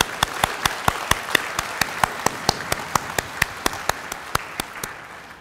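Applause for graduates at a university graduation ceremony, heard as slow, evenly spaced single claps ringing out one after another over a soft background hiss, close and distinct rather than a dense crowd roar.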